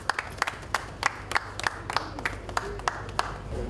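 Scattered clapping from a small audience at the unveiling of a new auditorium, sparse and uneven hand claps spread across a moderate ambient background rather than a full ovation.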